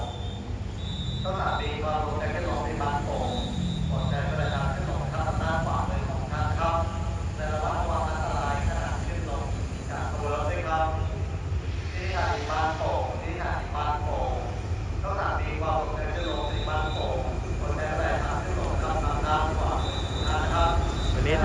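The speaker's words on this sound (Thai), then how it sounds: "ขบวน 254 นะครับ ต้นทางหลังสวนไปทางธนบุรีนะครับ กำลังจะเข้าจอดที่สถานีบ้านโป่งนะครับ" Alsthom locomotive 4153 hauls train 254 into Ban Pong station in Thailand, making a continuous low rumble throughout while someone talks steadily over it.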